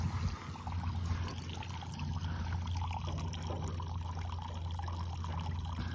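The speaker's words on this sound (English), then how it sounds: "we're just gonna have to keep draining it out of the tiny little rust holes there" Water trickles steadily from tiny rust holes in a 1983 GMC C70 truck, a continuous close dribbling pour over a low background hum, with no talking.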